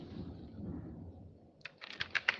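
Quick keystrokes tapped on a computer keyboard, a short burst of close, crisp clicks starting after a quiet pause over faint background hiss.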